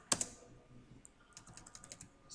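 Rapid clicks of a computer keyboard as a search is typed, a sharp keystroke at the start, then a quick run of light taps, close and alone with no talking.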